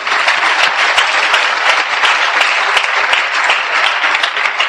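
Church congregation applauding together to acclaim the Lord, a loud, dense and steady wash of clapping that fills the room without a break.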